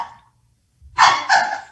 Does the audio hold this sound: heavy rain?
no